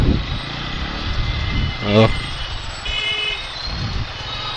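Heavy Hyderabad city traffic: engines drone and rumble steadily nearby while a car horn sounds a clear toot in the middle and fainter honks follow, with a voice talking over the street noise.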